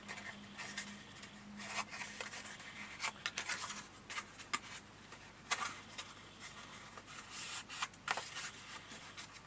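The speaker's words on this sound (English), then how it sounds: "Fold the score lines, fold the flaps" Paper being folded along score lines by hand, with soft repeated rubbing and creasing strokes at close range, fairly quiet and steady with occasional sharper swipes.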